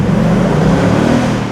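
A 2026 Ford Mustang GT V8 revs hard inside a tunnel, a loud, booming, reverberant engine roar that holds steady across the short moment.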